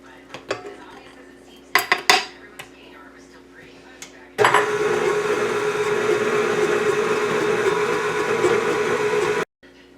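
Powdered sugar icing for cinnamon rolls is stirred and clinks against a bowl with a few scraping knocks, then a mixer starts with a loud, steady whir for about five seconds before cutting off.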